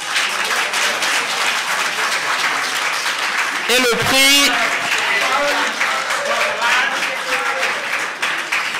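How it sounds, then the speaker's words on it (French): An audience claps for a prize winner at a French-language awards ceremony, a continuous wash of applause with a voice speaking over it and a brief sharp burst of noise midway. "Et je vous demande de l'applaudir,"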